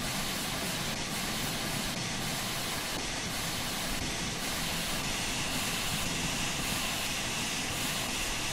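A steam train in Train Sim World 3, on a special steam excursion, runs with a continuous loud hiss and rumble, overlaid by a regular chuffing beat about once per second.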